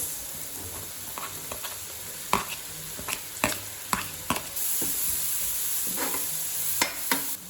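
Finely chopped onions, garlic and green chilies fry for prawn fried rice, with a constant loud sizzle broken by repeated sharp ladle scrapes and clanks against the pan.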